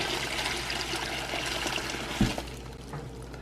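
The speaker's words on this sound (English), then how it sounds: "And I'm gonna add more water." Water pours steadily into a pot for brining a turkey, nearby, then a soft knock and the flow tapers off.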